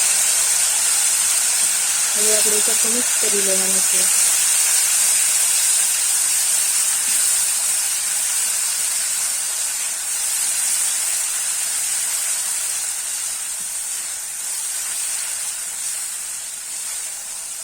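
Water poured into hot oil tempering for Kathiyawadi dahi tikhari sizzles and steams with a loud continuous hiss that slowly eases, while someone talks briefly over it.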